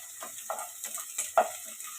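Chopped onions, three of them, stirred around a hot pan for gobi manchurian, giving a soft steady sizzle broken by a few clattering scrapes of a spoon, fairly faint and close by.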